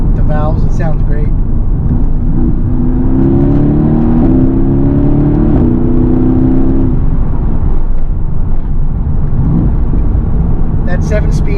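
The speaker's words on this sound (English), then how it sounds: "Now I'm going to open the exhaust valve so you guys can hear the difference." Mercedes-AMG GT S engine with its exhaust valves open, heard from inside the moving car: a loud, steady droning roar that swells as it accelerates through the gears, with a voice talking over it at times.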